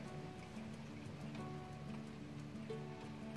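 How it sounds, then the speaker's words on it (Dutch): Rain falls steadily during a thunderstorm, a soft, continuous patter of drops on surfaces, fairly quiet and even throughout with no voices. "Het regent, zoals jullie nu wel goed zien."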